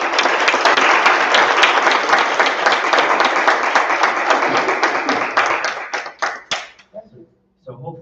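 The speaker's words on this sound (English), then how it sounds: "Please give them applause." Sustained applause from a county board of supervisors meeting, dense clapping of many hands that runs steadily for about six seconds, then thins to a few scattered claps and fades out.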